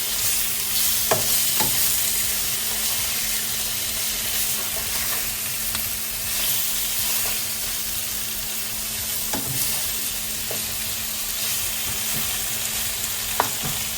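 Garlic fries in a pan with a steady, close sizzle that runs throughout, broken by occasional scrapes and clicks as it is stirred.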